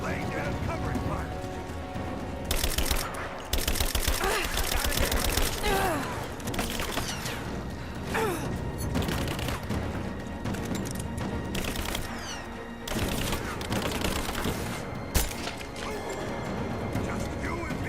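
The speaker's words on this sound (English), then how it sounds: "Laying down covering fire!" Gunfire in Rise of the Tomb Raider, dense repeated shots and impacts in bursts throughout a noisy combat scene, with voices shouting over it.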